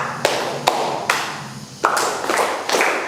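Sharp hand claps from a classroom ice-breaking concentration game, sounding as a handful of separate, crisp claps spaced out and close by, with no talking.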